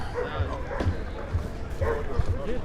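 A large black dog barks in short repeated woofs at a street rally in Portland, the barks fairly close and loud amid crowd noise and talking voices.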